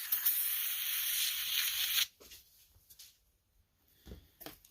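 A steady hiss of aerosol penetrant sprayed onto a John Deere LA105 transaxle runs for about two seconds and then cuts off, followed by quiet, scattered small clicks and shuffles.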